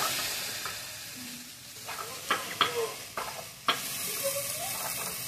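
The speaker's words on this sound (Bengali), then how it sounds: "2 চামচ জিরে বাটা দিয়ে দিলাম।" Cumin paste is added to a pan and stirred for a Bengali rui posto dish, giving a soft steady sizzle broken by several sharp scraping and tapping strokes from a spoon, close and without talk.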